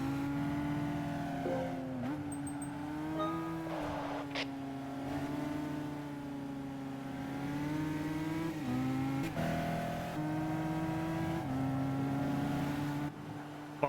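Racing cars, a Jaguar and a Porsche, in Gran Turismo 5 drone with sustained engine tones that rise and fall through gear changes and passes, fairly quiet and continuous without talk.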